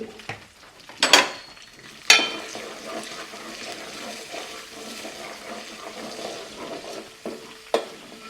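Chicken with turmeric fries gently on a low flame, with a soft sizzle broken by sharp scraping and clattering of a spoon stirring against the pan.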